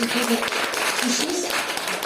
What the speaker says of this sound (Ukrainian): Давайте еще подарим Светлане аплодисменты.